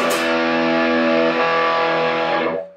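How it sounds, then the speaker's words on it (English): Electric guitar through high-gain distortion with the amp tone turned fully up, giving a thin, bright, saturated sound; one sustained loud chord rings steadily for over two seconds, then cuts off. "I'm gonna crank the distortion all the way up, tone all the way up to get like this really thin sounding distortion"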